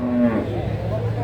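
Cattle low and moo at the Krek cattle market in Tuban, East Java, a drawn-out bovine call rising from a busy, noisy livestock-market backdrop.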